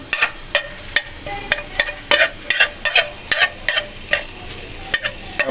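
Garlic cloves fry in a spoonful of oil in a pan, a soft steady sizzle broken by sharp clicking scrapes of a spoon stirring against the pan, close up with no voices.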